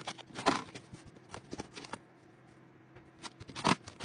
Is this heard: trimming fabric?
yes